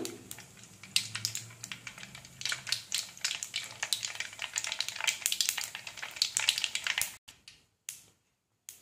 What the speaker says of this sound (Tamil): இதில் கடுகு ஆட் பண்ணிக்கலாம் கடுகு நல்லா பொரிஞ்சு வரட்டும்